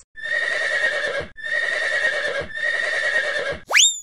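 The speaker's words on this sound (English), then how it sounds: "Horse." Horse neighing in a cartoonish animal-sounds sequence: three loud, even whinnies, each about a second long with short gaps, ending in a quick rising boing effect.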